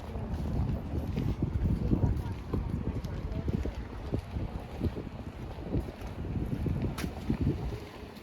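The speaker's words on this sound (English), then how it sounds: "As you can see, the wind was blowing so nice." Wind buffets the microphone outdoors in a steady low rumble with gusting swells throughout.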